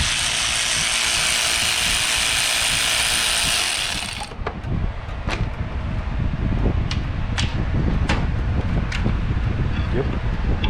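A ratchet clicks in short bursts while undoing 10 mm bolts on the timing cover of a 2006 Hyundai Tiburon GT, after a loud hiss fades, close up and distinct.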